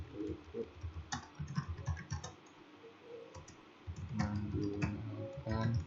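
Office document typing on a computer keyboard: quick, irregular bursts of key clicks close by, with brief pauses between runs of keystrokes.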